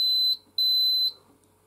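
An Apollo XPander smoke detector gives two loud, close, high-pitched pre-alarm beeps just after being reset during a system test. The first beep is short and the second longer, with quiet between them.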